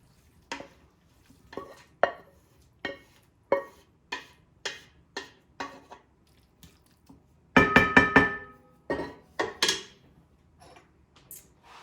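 Cooked pasta with tuna and broccoli is tossed in a serving bowl: a series of a dozen or so sharp, close clattering knocks in an uneven rhythm, with a denser burst of scraping partway through.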